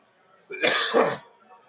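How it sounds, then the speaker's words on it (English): One harsh, rough cough from someone getting over a cold, close to the mic, sounding like a throat-clearing hack, followed by quiet. "Apologies for the coughing."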